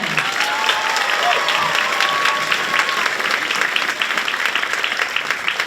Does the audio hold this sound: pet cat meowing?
no